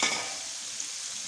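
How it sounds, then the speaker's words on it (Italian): Squid rings fry in hot oil in a home kitchen, a soft steady hiss and sizzle with a slight crackle at the start, fairly faint and continuous with no voices. "Ed ecco qua, giunti anche alla friggitura dei calamari."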